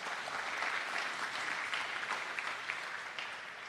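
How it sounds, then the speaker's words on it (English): A steady round of applause for the school principal from parents in a school hall at a fall sports parent meeting, many hands clapping at moderate volume and tapering slightly toward the end, with no speech over it. "Let's give him a round of applause."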